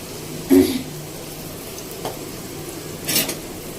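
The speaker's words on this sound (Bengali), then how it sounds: "এখন একটু পেঁয়াজ ব্রেস্তা করি।" Onions fry for pilau rice in a pan, a continuous soft sizzle broken by a few sharp scrapes and clinks of a spoon stirring against the metal.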